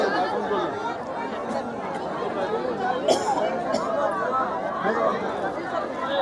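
Pilgrims crowd the roped, barricaded queues at the Gangasagar Mela during Makar Sankranti, a steady dense hubbub of many overlapping voices filling the air without pause.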